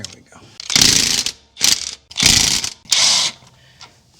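Ratchet wrench removing rocker assemblies from a 1971 Cadillac 472 engine, four loud bursts of rapid clicking separated by short pauses, close up with no talk.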